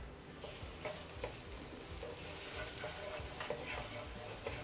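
One clove of chopped garlic sizzles in oil in a pan over medium-low heat, a steady, faint frying hiss with light crackles throughout.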